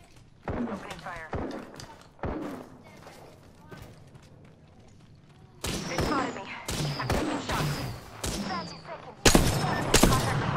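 Gunfire during an Apex Legends battle royale match: sharp weapon shots cracking out singly and in rapid volleys, growing denser and louder toward the end.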